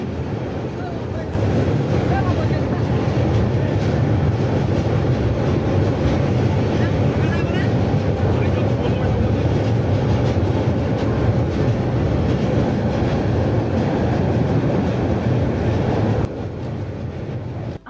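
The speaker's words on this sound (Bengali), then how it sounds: "রেল সেতুতে ওঠার পরেই প্রচুর শব্দ, একজনের কথা আরেকজন শুনতে পায় না, এমন একটা অবস্থা।" The Lalmoni Express passenger train crosses a rail bridge at about 50 km/h on its run to Dhaka. After a quieter first second it becomes a loud, continuous roar and rattle that fills nearly the whole stretch, then drops off just before the end.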